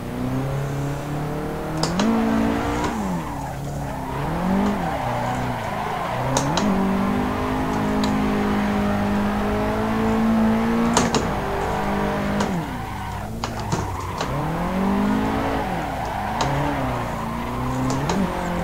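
A Nissan 180SX drift car in the Assetto Corsa video game revs loudly and continuously, its engine note rising and falling through gear changes, with bursts of tire squeal as it slides.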